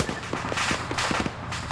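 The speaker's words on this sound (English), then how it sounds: "They're gonna be lighting it up with a 23mm cannon." Twin 23mm cannon fire rattles in a military video game, a quick burst of rapid reports with a dense, crackling texture.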